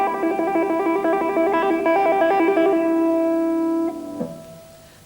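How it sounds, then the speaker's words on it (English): An electric guitar plays a one-handed hammer-on and pull-off legato run on open strings, with a quick stream of ringing notes that settles into a sustained tone before it cuts off. "you can play one-handed like this"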